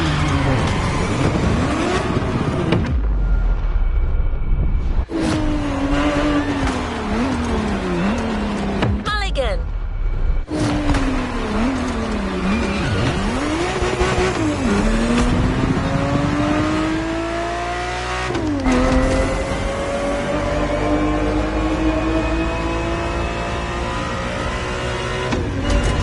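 A Ferrari supercar engine in a video game revs and roars continuously, its pitch climbing and dropping through repeated accelerations and gear changes, loud and close, with a voice talking over it throughout.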